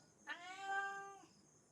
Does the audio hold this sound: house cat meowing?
yes